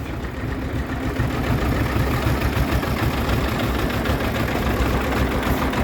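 A Xingtai 120 mini tractor engine idles close by, giving a loud, steady, low chugging rumble that runs unbroken throughout without any voices.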